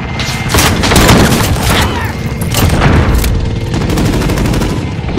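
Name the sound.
explosion in a video game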